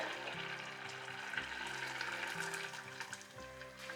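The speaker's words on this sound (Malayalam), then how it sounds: "ഗ്രേവിക്ക് ആവശ്യമായിട്ടുള്ള വെള്ളം കൂടെ ചേർക്കുകയാണ്." Water is poured into a pan of raw mango curry gravy made with ground coconut paste, a steady running splash and trickle that continues throughout at moderate loudness, with a low background hum and no voices.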